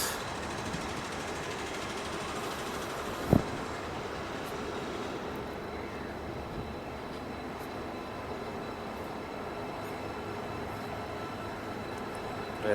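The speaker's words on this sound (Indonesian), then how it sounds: "Kereta api." A train passes through Johor city, Malaysia, as a steady, fairly quiet rolling rumble that holds throughout, with one brief sharp knock partway in.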